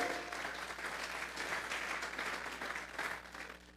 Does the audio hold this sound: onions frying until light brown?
no